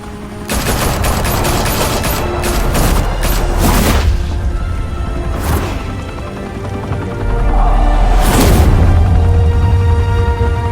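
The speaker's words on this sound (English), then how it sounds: "Open fire!" Gunfire in the Batman Telltale Series video game, a loud sustained barrage of rapid shots with heavy booms and crashes rolling over each other, swelling again toward the end.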